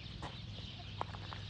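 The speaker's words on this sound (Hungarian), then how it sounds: "Nézd csak, ott van a kakas." Soft, brief clucks from a long-tailed rooster in a farmyard, a few short calls against a low steady hum, fairly quiet and with no speech.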